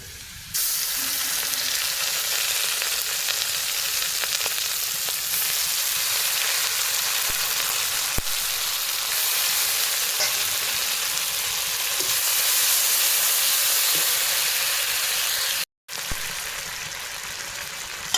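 Potatoes with ground spices frying in a home kitchen pan, a steady, close, loud sizzle that holds for the whole stretch, broken by one brief cutout near the end.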